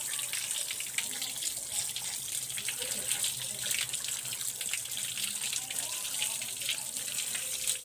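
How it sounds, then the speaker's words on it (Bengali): Pieces of freshly cut pond fish, charapona, are washed under running water in a village kitchen. A steady, moderately loud splashing gush continues for the whole stretch. "সব মাছগুলো কাটা হয়ে গেছে, এবার আমরা মাছগুলো ধুয়ে নেব।"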